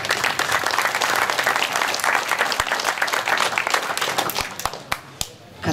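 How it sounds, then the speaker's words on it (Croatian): A live audience at an evening of Dalmatian poetry readings in Bibinje breaks into loud, sustained applause close by, dense clapping that thins to a few scattered claps before rising again at the end. "evo još jedan malo bolji, veći aplauz."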